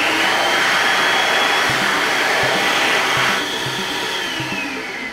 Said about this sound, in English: Turning the M knob counterclockwise turns down the motor speed.